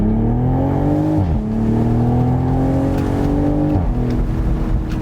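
A BMW Z4 M40i's engine drones steadily under load with a smooth rising tone, dipping twice as gears shift, the exhaust rumbling close and loud throughout.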